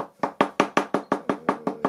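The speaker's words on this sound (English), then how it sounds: "How about by knock on the table?" Knuckles rap on a table eleven times in a fast, even rhythm, each knock crisp, close and hollow-sounding, with no voices.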